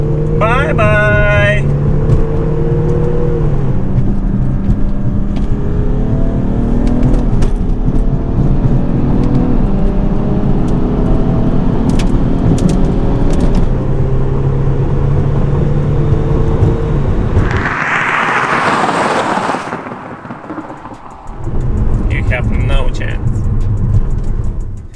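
Two tuned diesel cars, a 550 hp Audi A6 BiTDI quattro and a 425 hp BMW 435d xDrive, race from a rolling start: a loud, steady engine roar and whir throughout, briefly rising to a rushing surge near the end, with speech over it.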